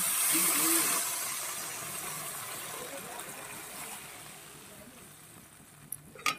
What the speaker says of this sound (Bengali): তো এই পর্যায়ে আমি দিয়ে দেব পরিমাণ মতন জল